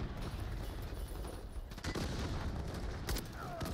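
Gunfire in Call of Duty MW3 with a dense, continuous wash of shots and a few sharper bursts standing out near the end.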